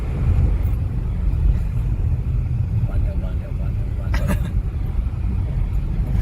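A Skoda car on a road trip drones along with a steady low interior road rumble and tyre noise, while people talk inside the car over it.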